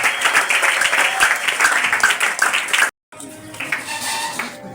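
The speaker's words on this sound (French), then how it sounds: "On acclame très fort le roi des rois." A church conference congregation applauds loudly in a dense, continuous wave of clapping, which cuts off abruptly and then resumes more faintly and scattered, with some voices mixed in.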